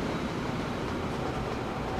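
A train moving along the track in the railway-building game Train Fever, a continuous rolling rumble of wheels and carriages at a steady, moderate level with nothing else over it.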